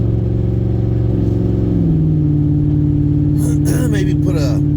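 A car engine idles steadily with a deep rumble, its pitch dropping briefly as it revs; a person speaks over it near the end.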